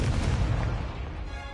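A Confringo fire-blast spell explodes in Hogwarts Legacy during a hard-difficulty fight, a loud, dense, rumbling burst that booms at the start and rolls on with a steady low roar as it slowly fades.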